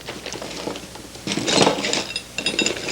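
Metal clamps, cadmium-plated, rattling and clinking as someone rummages through them by hand, with close, bright jingling bursts that build to a louder clatter.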